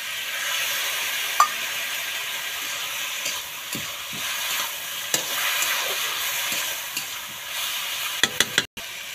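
Spices hit hot oil in a frying pan for a dish of stem shoots and dried lote fish, giving a steady close sizzling hiss with a few faint utensil clicks and a sharp clatter near the end.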